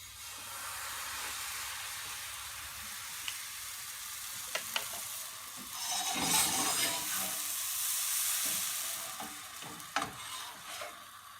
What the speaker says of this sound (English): we will add our pancakes batter. Butter melted. Let's put our first scoop.